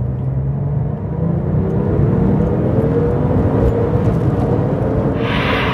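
A car engine pulls hard and steadily, its drone rising in pitch through a sustained acceleration, loud and close with constant road rumble.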